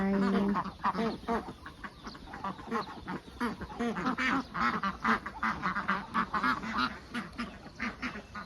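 Many egg-laying farm ducks quack repeatedly and loudly close by, a busy overlapping chorus of rapid calls.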